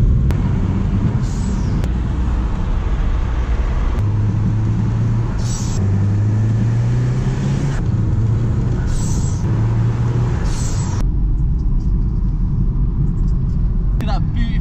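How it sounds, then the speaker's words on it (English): Mitsubishi Evo 8 driving on a mountain road: a loud, steady engine and road rumble with a shifting engine tone runs throughout, with brief changes in pitch as the car moves. "Driving in the mountains."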